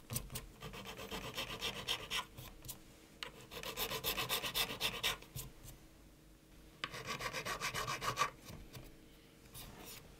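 A file rasps across the top of a guitar nut in several bursts of back-and-forth rubbing, close and fairly quiet, with short pauses between strokes.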